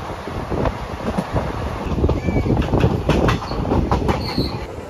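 The Pamani Express runs at speed on the line toward Pakala Junction, with loud rushing wind, steady wheel clatter and occasional thin squeals of the wheels on the rails.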